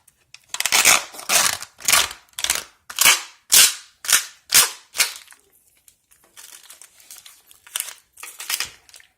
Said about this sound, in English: I want to separate the packaging. And I'm at least going to get part of the packaging off.